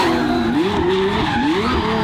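A twin-turbo Ferrari V12 car doing donuts, with loud continuous tire squeal and skidding that wavers in pitch over a heavy engine roar, close and unbroken throughout.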